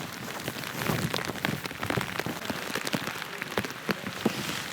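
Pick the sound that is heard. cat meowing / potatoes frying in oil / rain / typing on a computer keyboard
rain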